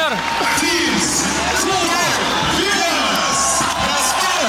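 Crowd noise fills Žalgiris arena, a loud, continuous roar of cheering and clapping from a large audience, steady throughout without a break.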